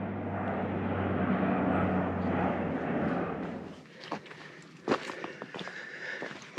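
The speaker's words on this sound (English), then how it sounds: "Maybe an airplane. Yeah, it's an airplane." A distant large airplane drones with a low engine rumble over the woods for several seconds, then fades, leaving faint rustling footsteps and small nearby sounds on a forest hiking trail.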